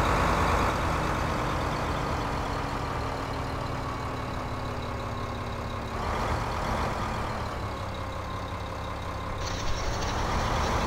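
A vehicle in Farming Simulator 2015 rumbles past with a steady, heavy engine drone and a slowly falling pitch, continuous and fairly close across the whole stretch.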